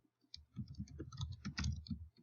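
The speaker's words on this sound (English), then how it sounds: "My typing is awful." Rapid, uneven clicks of typing on a computer keyboard, close and fairly faint, tapping in short irregular bursts with no speech.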